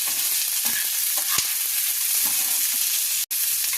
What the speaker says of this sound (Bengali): ক্যাপসিকাম দিয়েও আমি 2-3 মিনিট নাড়াচাড়া করব, একদম হালকা ফ্রাই হবে